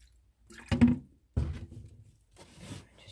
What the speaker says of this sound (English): Just dumped water all over